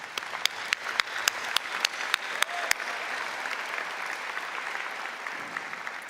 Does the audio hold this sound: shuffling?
no